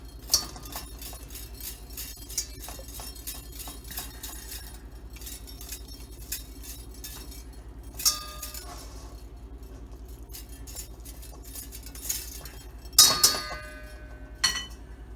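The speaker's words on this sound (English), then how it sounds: "this thingy, a whisk, to pull the eggs off" A metal whisk clinks and jangles against a glass bowl while pulling salmon eggs off the skein, giving light, irregular metallic taps with a few louder clanks near the end, close up and without talk.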